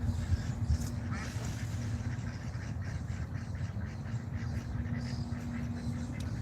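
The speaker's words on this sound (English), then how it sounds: "You hear him? You hear the quacks?" Ducks quack repeatedly at close-to-mid distance outdoors, irregular calls over a steady background rumble, with no talking.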